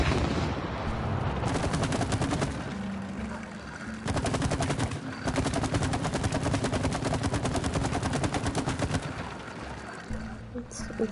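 Rapid bursts of gunfire from shooting in the co-op game It Takes Two, dense and loud across most of the clip with short pauses between volleys, voices talking over the shots.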